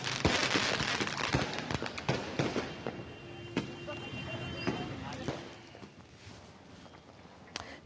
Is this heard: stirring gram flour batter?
no